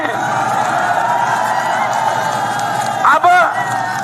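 A crowd at an Arvind Kejriwal political rally applauds and cheers in a steady, dense wash of clapping and voices, with a brief shrill whistle-like call near the end.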